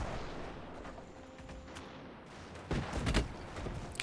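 Cannon fire from battling airships in the strategy game Airships: Conquer the Skies, heard as a steady clatter of distant shots that swells into a louder burst of several booms near the end.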